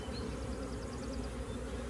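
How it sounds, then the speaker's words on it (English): A honeybee swarm in a box gives a continuous, close, steady buzzing drone made up of many overlapping wingbeats, heard alone without talk. "Now I've got a very large box full of bees."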